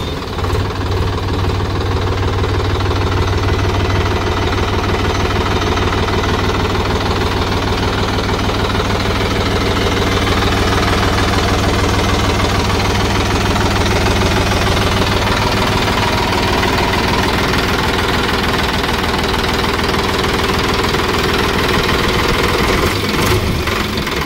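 A Mahindra Yuvo 475 DI Tech Plus 4WD tractor engine, 42 HP, idles loudly and close, its steady knocking diesel rumble with mechanical vibration going unbroken throughout.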